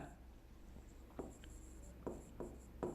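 Chalk taps and scrapes on a board during a maths lesson, faint and close, with a few distinct clicks spaced through a soft background hum and no talking.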